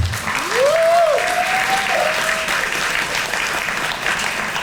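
Audience applause fills a police district community relations awards ceremony, steady and sustained across the room, with a faint rising tone or whistle near the start.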